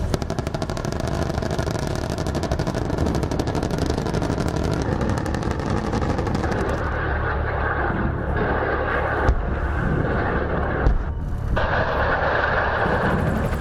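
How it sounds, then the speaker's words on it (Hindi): Apache multi-role combat helicopter, a dense, loud rumbling roar of rotor and engine noise that holds steady throughout, with a rapid low pulsing thump, alone with no talk. "आज हिंदुस्तान के पास दुनिया का सबसे ताकतवर multi role combat helicopter Apache है।"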